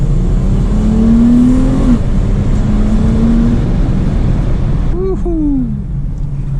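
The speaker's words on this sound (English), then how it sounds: "let's do a little pull right here. First gear pull." A V6 Dodge Challenger pulls hard in first gear, its engine note climbing steadily in a rising whine, then briefly shifting before climbing again, loud and close inside the cabin with road rumble underneath.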